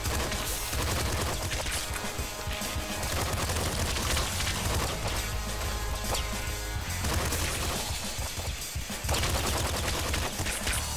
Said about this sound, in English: I will take the SMG. It's a really strong weapon.